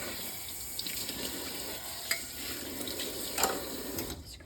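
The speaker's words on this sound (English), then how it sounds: "now I'm going to take it and soak it in a little bit of soap and vinegar" Water runs steadily from a tap while a vintage glass bowl is washed, a loud continuous rush with a couple of brief clinks of glass, with no talking.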